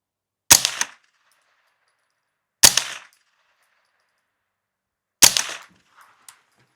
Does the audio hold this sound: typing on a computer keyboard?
no